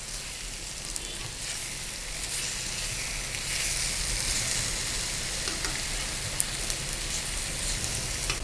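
Spinach-leaf patode fry in a pan with a steady, close sizzle and crackle, and faint scrapes as the rolls are turned. No one speaks.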